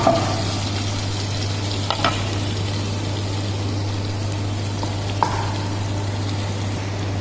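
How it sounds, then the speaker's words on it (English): Ginger garlic paste sizzles steadily in a pan for bhindi do pyaza, with a constant frying hiss, a low hum underneath and a few scraping stirs of a spoon. "So we put little ginger garlic paste, 2 spoon like this. Okay, okay, and have to mix well."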